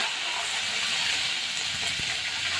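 Mustard seeds and curry leaves sizzling in hot ghee for upma, a steady close hiss and crackle with a couple of sharp pops near the end.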